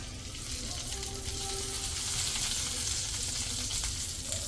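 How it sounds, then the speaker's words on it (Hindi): Hot tadka tempering poured over dahi bade, a steady broad sizzle and crackle of spices in oil that holds at an even level throughout. "ये लगा दिया तड़का"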